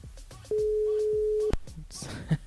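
A steady single-pitch telephone tone sounds for about a second, then cuts off, with faint background noise and a brief voice afterward.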